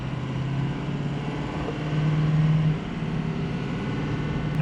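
A truck with a 6.0L engine accelerates at light, 25% throttle, giving a steady mid-pitched engine drone heard from inside the cab, with a brief louder swell partway through.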